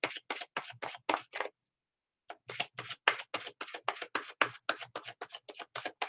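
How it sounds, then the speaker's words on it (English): Tarot cards being shuffled in two close bursts of rapid, crisp riffling flutters, with a short pause between them and no voices. "I gotta shuffle some more."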